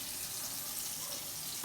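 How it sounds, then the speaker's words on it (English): Tap water runs steadily into a bowl, a constant broadband rush with no talk, ending in a brief low thump. "Fill that up with some water"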